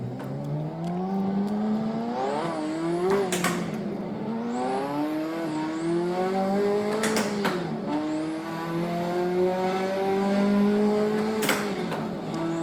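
Engine of a manual race car in the Assetto Corsa racing video game, revving up through gears with rising pitch sweeps and shift breaks, plus brief tire-squeal bursts, loud and continuous.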